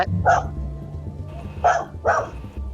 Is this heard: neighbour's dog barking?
yes